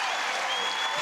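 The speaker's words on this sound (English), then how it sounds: "Big applause." Crowd at a Trump town hall in Cedar Rapids bursting into dense, continuous applause, a brief full wash of clapping with no voices on top.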